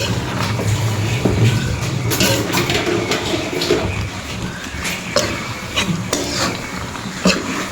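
Spoon stirring a pot of sinantol with coconut milk, a continuous scraping and clinking against the pot over a soft background sizzle, with several sharper taps scattered through.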